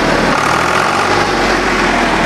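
A Swaraj 735 FE tractor's diesel engine runs steadily at idle, a loud continuous rumble with a buzzing mechanical drone and no voices.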